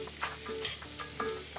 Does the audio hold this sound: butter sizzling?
yes